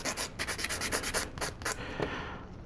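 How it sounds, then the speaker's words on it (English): Sanding sticks rubbed over a small plastic part of a 1/72 scale Sinanju model kit, a run of quick close rasping strokes in steady rhythm, then a few slower scrapes, with no talking. "I'm just going to sand this smooth a little bit"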